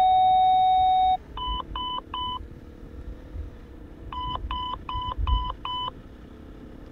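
Speed-zone alert from the Terra Pirata rally road book app: a steady tone at the start gives way to short bursts of sharp electronic beeps, first three, then five more after a pause, loud and close with no talk.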